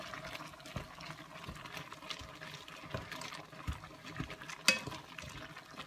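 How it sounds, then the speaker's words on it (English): Sweetcorn chowder being stirred in a pot: quiet bubbling and wet swishing with irregular soft clinks of a utensil against the pot, one sharper knock near the end, faint and close. "we're going to give it a good stir"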